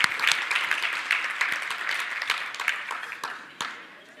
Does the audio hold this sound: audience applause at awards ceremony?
yes